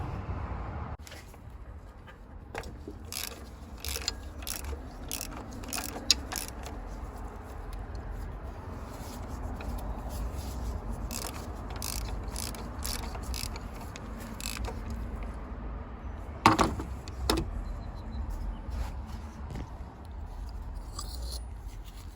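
A ratchet fitted with a 27mm socket loosens an exhaust pressure sensor on a Ram 3500 6.7L Cummins, giving scattered, close clicks and clatter over a low steady background.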